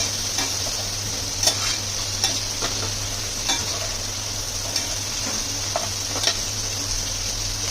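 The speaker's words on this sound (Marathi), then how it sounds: "स्मोकी चिकन तवा फ्राय छान तव्यावर" Chicken frying on a hot tawa griddle with smoky searing, a steady close sizzle under a low hum, broken by a few sharp ticks and clicks from stirring or flipping.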